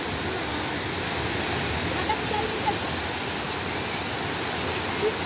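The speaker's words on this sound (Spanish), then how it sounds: "Mira, se hizo una cascadita." Loud, steady rush of water from a small waterfall and flowing river, a dense continuous roar close by with no pauses.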